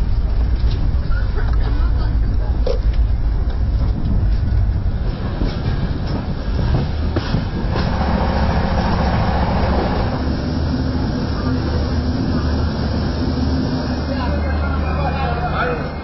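The Bhopal Shatabdi passenger train runs steadily on the rails, a loud continuous rumble with faint rhythmic clatter throughout, heard from inside a carriage.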